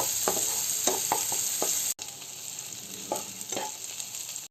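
Chopped onion frying in hot oil with cumin, cloves, cardamom and cinnamon for a winter cauliflower and koi fish curry, a steady close sizzle with a few stirring scrapes and a brief cut partway through.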